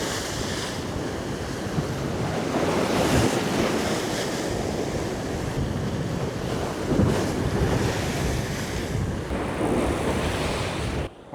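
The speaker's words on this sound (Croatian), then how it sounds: "dosta nosi vjetar, dosta nosi sve" Strong jugo wind blows over the sea at a shore fishing spot, making a steady, loud, broad roar mixed with surf that barely changes across the whole stretch.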